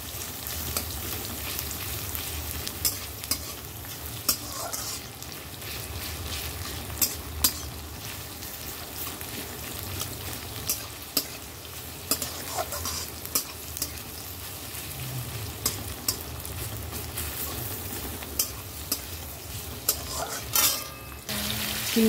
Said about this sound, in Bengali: পেঁয়াজটা দিয়ে দিলাম, তেলটা সাদা তেল দিলাম,